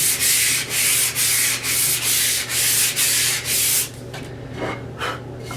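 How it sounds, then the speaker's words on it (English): Light hand sanding of chalk-painted wood with sandpaper, a steady run of about eight even back-and-forth rasping strokes, close and fairly loud, followed by softer, scattered scuffing. "take my sandpaper, and like the time before, just give it a very light sand."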